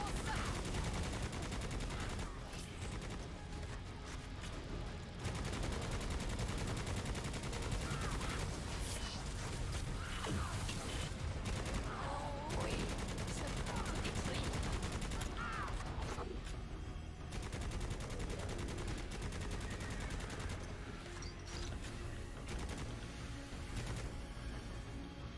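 Rapid gunfire from a favourite weapon in the video game Necromunda: Hired Gun, sustained bursts and fusillades running almost continuously, loud and dense, with occasional speech underneath.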